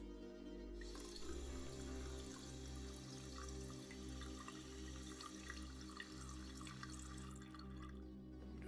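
Hot water gushes steadily from a tap, a continuous hissing, splashing stream with a low droning hum beneath it, close and moderately loud, with no voices.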